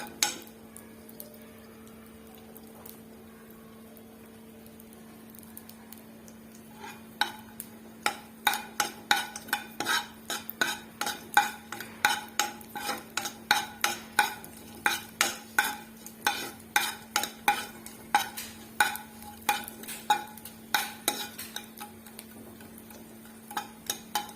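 Edible gum (antu) fried in a pan for dry-fruit laddu, a quiet hiss giving way to rapid, repeated scraping and stirring clicks of a spoon against the pan, close and rhythmic, no talking.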